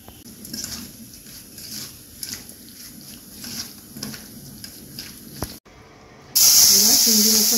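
Prawns dropped into hot mustard oil seasoned with salt and turmeric burst into a loud, close sizzle near the end, after a stretch of quieter low hissing oil.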